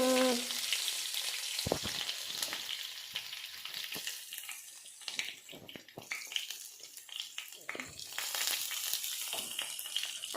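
Garlic sizzles and fries in hot oil in a pan for a beetroot curry, giving a steady, close crackle with scattered stirring scrapes throughout and no talk.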